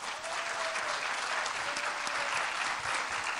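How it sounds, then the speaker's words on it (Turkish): An award ceremony audience breaks into brisk, steady applause, moderately loud and continuous, with a faint voice underneath. "Tekrar büyük bir alkış alalım"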